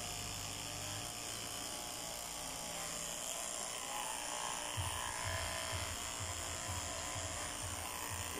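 Electric clipper shaving a dog's mouth and chin area, giving a steady, close, high-pitched buzzing drone that runs the whole length with slight changes as the blade moves through the fur.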